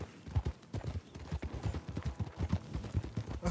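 Horses' hooves clip-clop in Red Dead Redemption 2, a steady, fairly quick run of hollow knocks at moderate volume with faint mechanical rattling behind them.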